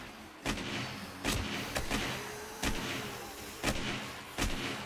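Gunfire in the zombie survival game 7 Days to Die, Darkness Falls mod: six heavy, booming shots at uneven intervals, each with a short decay over a low background murmur, no talking.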